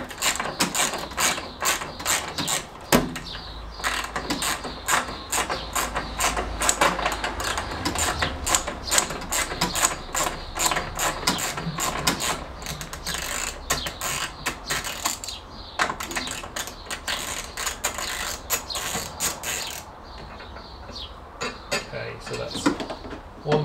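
A 13 mm spanner undoes the fuel tank strap bolts on a classic Fiat 500, giving a steady stream of quick metallic ratcheting clicks and clinks, close and continuous for over twenty seconds.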